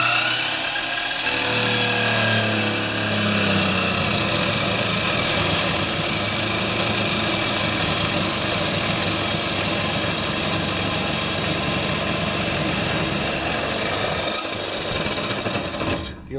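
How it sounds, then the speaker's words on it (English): A power tool cuts two 1-inch-thick metal pieces for a folding metal table, a harsh continuous grinding whine that carries on steadily for the whole stretch with no pause. "now I'm just cutting out 2 pieces that are 1 inch thick to support that rotating leg"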